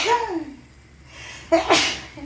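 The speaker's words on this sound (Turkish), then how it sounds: "Aha da yine hapşıracağım." A single close sneeze set off by black pepper, with a sharp explosive burst after a brief intake of breath, preceded by a short vocal sound.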